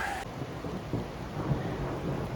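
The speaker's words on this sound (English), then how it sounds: "Now thunder boomers are starting" Thunder rumbles low and heavy through rain on a forest trail, a deep rolling boom under a steady hiss of falling rain, with no voices.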